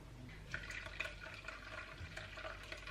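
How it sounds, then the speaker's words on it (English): Cashew milk mix poured slowly through a sieve, a continuous soft trickle and splash of liquid with a few brief drips, heard close up and alone. "we're just gonna go in and pour the mix through the sieve like so."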